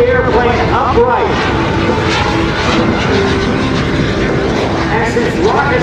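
A Super Salto jet sailplane flies aerobatics at a naval air station air show, its engine drone steady and loud throughout, with a commentator talking over it across the whole stretch.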